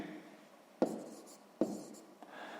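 A pen writes down a sixth-grade math solution with soft scratching strokes and two sharper taps. The sound is close and faint, with no talk over it.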